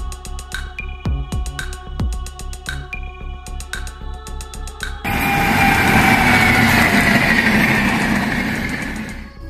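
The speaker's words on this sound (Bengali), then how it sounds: "এটা কিন্তু মালগাড়ির সেই ইঞ্জিন।" A freight train locomotive at Khemashuli station, near forest, starts with a rhythmic mechanical clatter and ringing tones, then swells into a loud, close, sustained engine roar with no voices.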